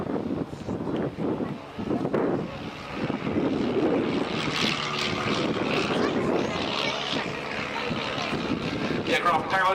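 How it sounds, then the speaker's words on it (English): A de Havilland Tiger Moth biplane with a 130 horsepower de Havilland Gipsy Major engine drones past in a display, its propeller buzz rising and steady, loud with wind noise, while a voice talks over parts of it. "The aircraft powered by a 130 horsepower Gypsy Major engine built like the aircraft by de Havilland."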